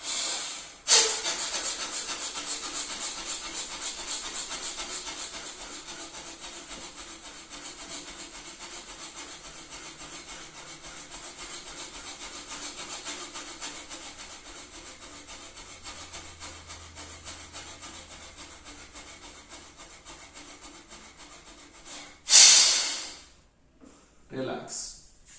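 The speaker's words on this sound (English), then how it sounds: "let's do fast breathing with both the nostrils." Fast yogic breathing through both nostrils, a rapid continuous rasping rush of air held for about twenty seconds, close and steady, ending in a few louder breaths.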